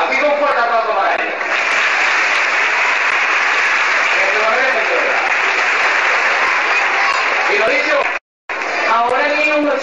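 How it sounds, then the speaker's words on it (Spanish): A large carnival crowd applauds loudly and continuously, with cheering voices mixed in, briefly cut off near the end before resuming. "un fuerte aplauso para ellos"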